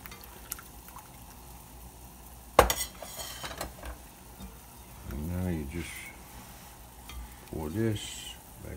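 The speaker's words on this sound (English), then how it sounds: "And you gotta keep stirring right away." Lemon pie filling being stirred in a pot with a utensil: soft scraping strokes and a sharp clink, with someone talking over the kitchen sounds.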